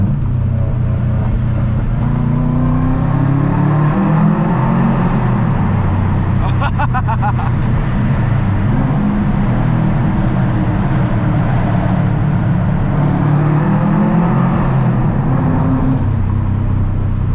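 A Subaru WRX engine pulls through a tunnel, a loud, boomy exhaust drone that rises and falls in pitch with the revs and echoes off the walls, with some talk underneath.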